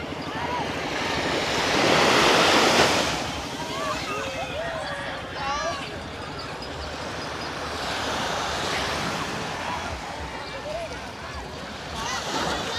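Sea waves wash onto a beach with very clear water, a steady surf roar that swells loudest early on, mixed with wind noise against the microphone while people talk nearby.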